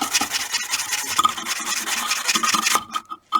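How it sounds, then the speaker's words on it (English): Sandpaper rubs over a wire-wrapped ammonite pendant in quick, close rasping strokes that run steadily, then break off into short scratches and a pause near the end. "sandpaper all of it"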